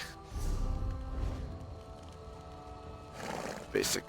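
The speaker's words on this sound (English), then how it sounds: "So you can always run around with the horse like this and do all that." A horse ridden in the online game Elder Scrolls Online, with neighing and whinnying and faint hoof clip-clop over steady game background sound and music.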